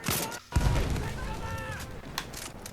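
Grenade explosions in a Battlefield game: a deep boom bursts out and rumbles, followed by scattered gunfire and battle noise, loud and close.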